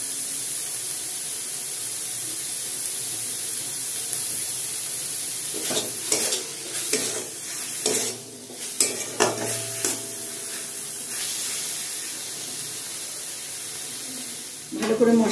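Chhana (cottage cheese) sautéed with spices in a pan gives a steady low sizzle, with bursts of spoon scraping and stirring in the middle and near the end.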